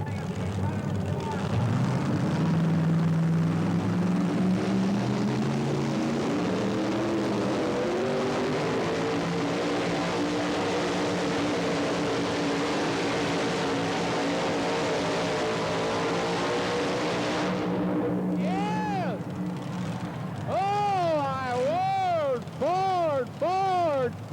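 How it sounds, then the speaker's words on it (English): A supercharged Ford pulling truck roars under load in an indoor arena, its engine note climbing and straining for a long pull before cutting off, then rhythmic revving bursts near the end; an announcer talks over it. "he's determined to run his supercharged Ford out of the arena"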